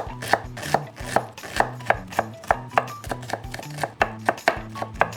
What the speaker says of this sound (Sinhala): මං දැන් ලූණුත් කපා ගන්න යන්නේ